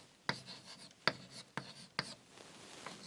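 Pen handwriting Sanskrit in Devanagari script on paper, close and quiet: four distinct tapping strokes at a steady spacing, each followed by a faint scratching drag, with no voices.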